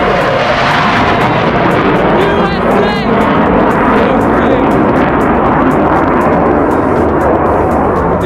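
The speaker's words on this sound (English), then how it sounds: "Oh, we got a jet." A jet airplane roars low overhead outdoors by a river, a loud sustained rumble that fills everything with a sweeping pitch shift as it passes, with a voice speaking over it.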